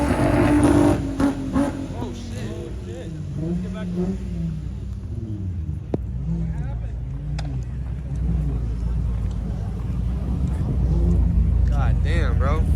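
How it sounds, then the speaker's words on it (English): A loud Dodge Hellcat at a busy Los Angeles car meet, its deep exhaust rumbling and revving under excited, overlapping talk from a crowd, building louder toward the end. "Big ass fucking exhaust pipe. It's a little Hellcat."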